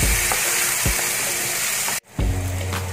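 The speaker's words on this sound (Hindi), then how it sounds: "अभी हमारा ये टोमेटो भी रोस्ट होने लग गया है" Chopped tomato and onion fry in a pan for a spicy egg rava dish, a loud, close, continuous sizzle with a few soft stirring scrapes and one brief break near the end.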